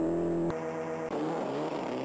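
Engine of a damaged car in an arcade racing video game, a steady droning whine that cuts out briefly and comes back rougher and buzzier, loud and continuous.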